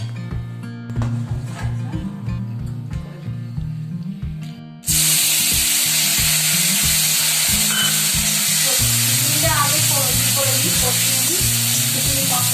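Boiled mung, masoor and matar dal tipped into a hot pan for khichuri, bursting into a loud, steady sizzle after a few seconds of quieter kitchen sounds, then hissing on continuously with faint stirring.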